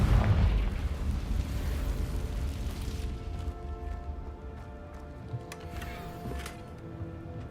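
A Confringo blasting spell explodes in Hogwarts Legacy, a loud booming burst up front that decays into a long rumbling, crackling tail.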